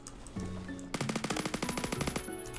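Rapid automatic M4A1 rifle fire from the shooter game Phantom Forces, a sustained burst of sharp evenly spaced shots over faint game background tones.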